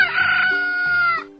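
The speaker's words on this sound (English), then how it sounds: "Well, hello, Mr. Rooster." A rooster crows a single drawn-out cock-a-doodle-doo, loud and close, rising and holding before it breaks off, with no talk over it.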